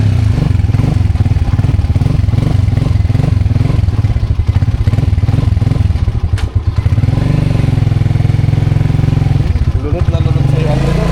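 A flooded motorcycle engine sputters and clatters close by, its idle pulsing unevenly before dipping briefly and picking back up, with people talking over it.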